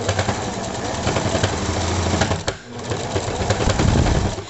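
A sewing machine whirs as it backstitches across a fabric seam on a cover for a 20-litre water jug. The steady close motor buzz pauses briefly midway, then starts again.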